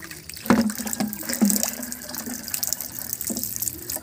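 Rainwater collected from the roof is poured by the scoopful onto chili plants, giving splashy gushes with a couple of sharper splash onsets, steady trickling between them, outdoors and close by.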